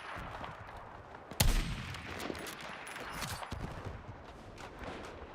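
Heavy .50 caliber machine gun fire in the Battlefield video game, with a sharp loud burst near the start, then a dense, busy battle soundscape of shots and rumble continuing underneath.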